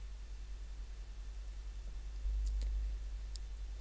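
Computer mouse clicks while working in a WordPress admin screen, a few faint, short clicks clustered near the end over a low steady hum, no talking.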